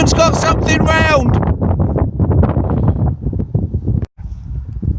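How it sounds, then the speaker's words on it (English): Gusty wind buffets the microphone outdoors on a field during metal detecting, a steady loud rumble running under close talk throughout. "oh, this wind"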